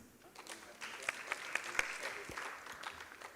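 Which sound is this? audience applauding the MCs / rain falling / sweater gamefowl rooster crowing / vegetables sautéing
audience applauding the MCs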